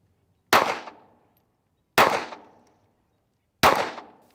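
Three loud, sharp handgun shots fired one at a time during a firearm shooting lesson, each a close crack with a quick decaying echo, spaced about a second and a half apart.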